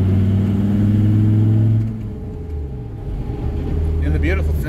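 A 1996 Dodge Viper GTS 650R engine cruising at about 55 mph and 1700 RPM in fifth gear, a steady low rumble with road and wind noise that dips and swells slightly midway.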